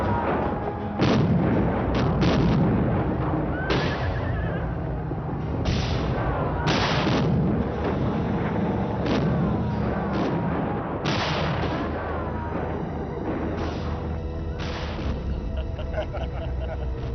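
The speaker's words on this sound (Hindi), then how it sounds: "मैंने जो नए गोले भेजे हैं उन्हें दागो।" Cannon shells being fired in a historical drama battle scene, with repeated heavy booming blasts over a continuous rumbling din of battle, loud and spread across the whole stretch.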